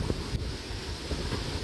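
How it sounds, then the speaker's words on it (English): Strong hurricane wind gusts and rain in a front yard in Lakeland before Hurricane Milton's landfall, a dense continuous roar buffeting the microphone with low rumbling thumps throughout. "we have just a lot of wind gusts right now and lots of rain coming in"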